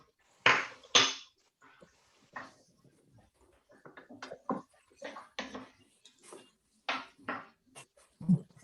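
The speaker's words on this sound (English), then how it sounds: "Give it a stir." Mushrooms being stirred in a cooking pan, with a series of irregular metallic scrapes and clinks of utensil against pan, close and fairly loud, with brief quiet gaps between strokes and no talk.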